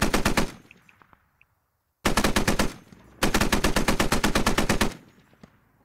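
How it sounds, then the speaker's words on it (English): A .50 cal machine gun in the video game Squad fires in three loud, rapid bursts, each a dense rattling string of shots with brief silent gaps between. "being fired upon from the one guy in the 50 cal"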